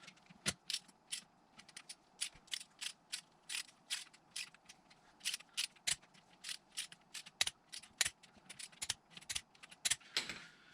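A freshly reassembled SeaDoo 787 engine is turned over by hand, giving a quiet, rapid series of sharp mechanical clicks and ticks with a ratchet-like rhythm, alone and close up.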